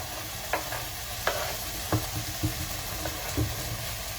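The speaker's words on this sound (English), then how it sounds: "I'm putting in now all these vegetables" Onion, cauliflower and broccoli stir-fried over medium heat in a pan, a constant low sizzle with a handful of separate spatula knocks and scrapes spaced through it.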